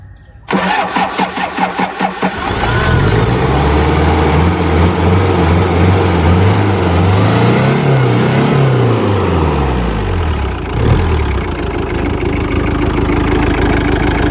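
A Mazda LD20 engine cranks and starts, then settles into a steady, loud idle with some rising and falling revs, close by.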